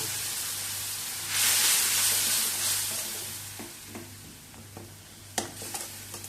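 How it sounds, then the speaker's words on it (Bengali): Ground spice masala fries in a pot for dum aloo with a loud, close sizzle that swells and then thins out, and a spoon stirs and scrapes with sharper knocks near the end; no talking. "এবার মশলা ভালো করে কষিয়ে নেব"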